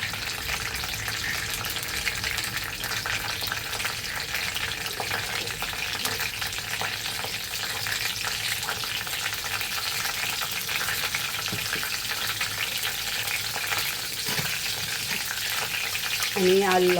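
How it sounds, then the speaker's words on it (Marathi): Cumin seeds crackle and sizzle in hot oil as a spiced methi and spinach gravy is started, a continuous close frying hiss throughout with a brief utensil sound near the end. "आणि जिरं टाकूया."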